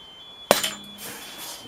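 A rubber hammer strikes the front wheel bearing shaft of a Hyundai i20 in a single sharp, close blow that rings briefly and quickly decays into a quiet workshop background.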